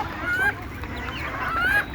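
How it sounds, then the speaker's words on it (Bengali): Native deshi hens, some three to four years old, cluck softly in a backyard flock. A few short calls rise over a low, steady farmyard background. "আমার এখানে 3-4 বছরের মুরগি পর্যন্ত আছে"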